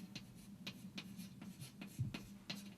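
Loop equations for a circuit are written on a board during a Norton's theorem lecture: rhythmic scratchy strokes, about two per second, recur steadily and close by over a low background hum.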